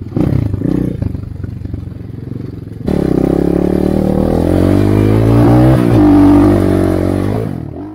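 A 2020 EGL A16 250cc minibike runs on a track, its engine loud and close, idling roughly at first, then revving hard and climbing in pitch as it accelerates before easing off.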